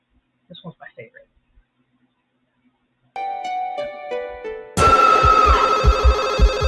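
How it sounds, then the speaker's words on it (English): A telephone rings at the opening of the 1996 horror film Scream, a steady electronic trill that enters partway through after brief murmuring and is then overlaid by a louder burst of noisy sound. "The movie begins with a phone ringing"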